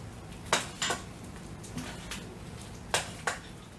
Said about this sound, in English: Now we're going to stir it all up.